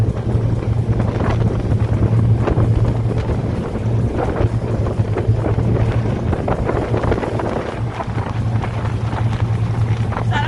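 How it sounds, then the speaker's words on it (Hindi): Steady roaring wind buffets the microphone during a fast speed boat ride to the Hole in the Rock in the Bay of Islands, with engine drone and water rush underneath, loud and continuous throughout. "हवा बहुत तेज़ होती है"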